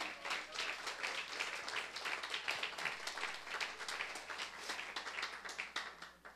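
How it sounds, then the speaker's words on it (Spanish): A church congregation applauds during a sermon, with many hands clapping in a dense, slightly rhythmic patter that stays steady and fairly distant throughout. "Démelo un aplauso a Jesús."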